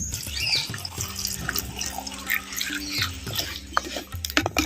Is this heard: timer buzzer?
no